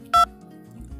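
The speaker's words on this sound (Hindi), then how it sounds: "सीधे आपको अपने डायलर पर जाना है, वहाँ पर आपको टाइप करना है" A single short electronic keypad beep from a phone dialer as a code is typed, one clear tone near the start over a faint low background hum.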